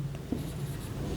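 Brief chalk or marker strokes on a board during a maths lesson, a few quick scratchy marks, quiet and close with no talk over them.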